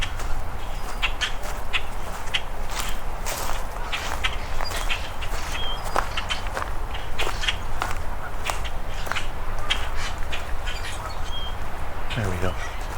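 Footsteps crunch steadily outdoors while walking toward a calling common grackle, with scattered bird chirps and calls over a constant background hiss.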